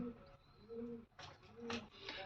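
Low pigeon coos repeat in a slow rhythm, punctuated by a few short rustling bursts, fairly close and quiet.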